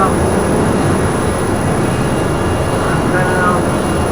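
An airplane engine in cruise flight in a flight simulator, a steady, loud, unbroken drone with a constant high whine on top, someone speaking briefly over it.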